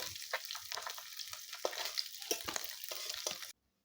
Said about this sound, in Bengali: আমার মাছগুলো ভাজা হয়ে গেছে, আমি এখন এক এক করে মাছগুলো তুলে নেব